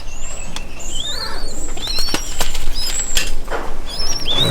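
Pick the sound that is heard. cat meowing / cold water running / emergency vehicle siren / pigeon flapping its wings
pigeon flapping its wings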